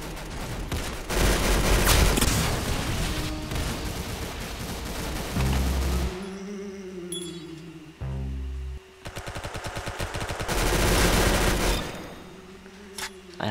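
Golden gun firing in the Roblox shooter Arsenal, loud single-shot blasts mixed among dense bursts of in-game gunfire and explosions, with no talking.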